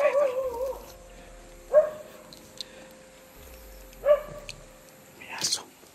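A dog outdoors gives three short, high yelping barks spaced a couple of seconds apart at moderate distance, over a quiet background, with a brief human sound at the end.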